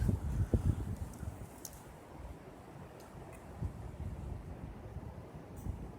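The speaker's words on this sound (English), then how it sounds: "maybe you can hear the wind" Gusty wind blowing through a birch forest, a steady low rumble with a few stronger buffeting gusts against the microphone near the start and later on.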